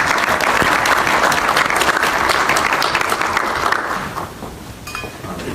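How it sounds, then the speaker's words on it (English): An audience at a college mayoral candidates' forum breaks into sustained applause, full and even at first, then fading out over the last seconds as a few claps linger. "give a round of applause for Jacob and welcome him."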